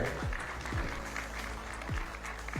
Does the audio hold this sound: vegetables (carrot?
no